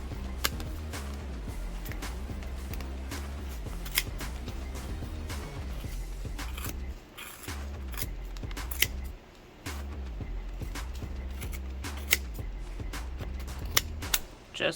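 Repeated sharp snips of scissors cutting through yarn around a crocheted pom pom, close up, coming in quick irregular bursts over a steady low background hum.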